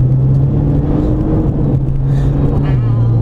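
Interior of a 600 bhp Nissan GT-R accelerating, a loud steady engine drone with a rising whir from the turbos spooling, heard from inside the cabin.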